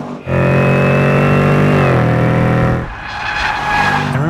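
A 2015 Range Rover Sport SVR, naturally aspirated, pulls hard at full throttle, its loud engine note climbing steadily through a gear, dropping briefly at a shift near two seconds, then rising again with a rougher, noisier roar.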